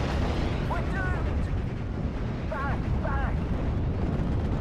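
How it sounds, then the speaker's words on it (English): A Nebelwerfer rocket artillery launcher in Steel Division: Normandy 44 fires in a continuous loud rumbling roar, with a voice and scattered short chirps faintly over the din. "Nebelwerfer firing away, not flying away."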